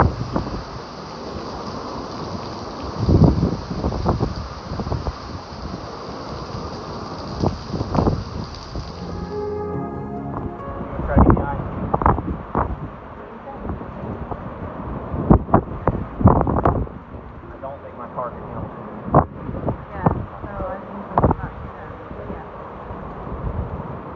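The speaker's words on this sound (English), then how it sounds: "We found a Marathon gas station in Perry where we rode out the inner Eyewall bands coming over" Hurricane Idalia's inner eyewall winds roar past a Marathon gas station in Perry: a loud, steady broadband rush gives way to irregular buffeting gusts and sharp thumps battering the microphone.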